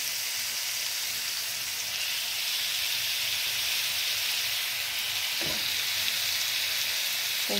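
Chicken pieces fry over high heat in a little oil in a pan, giving a steady, broad sizzle and hiss throughout, with a brief clatter near the end.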